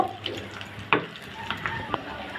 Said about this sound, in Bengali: আমি মাংসগুলো লাল লাল করে ভেজে নেব।